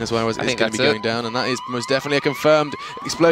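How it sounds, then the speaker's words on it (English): An MCOM siren wails in a Battlefield 4 esports match, its rising and falling tone partly buried under an excited commentator talking continuously over it. "You can hear the siren going off, and that's going to be the first bomb down"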